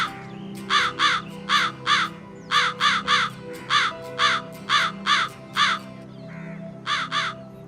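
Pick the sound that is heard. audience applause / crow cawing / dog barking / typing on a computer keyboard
crow cawing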